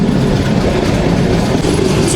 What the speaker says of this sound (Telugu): చీపురుపల్లి నుంచి కొద్దిగా ముందుకెళ్తానే మన ట్రైన్ కరువు తీసుకుంటుంది